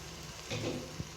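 Spinach and tomatoes being stirred in a cooking pan give a soft, brief scrape and low sizzle, faint and short, with one small knock near the end.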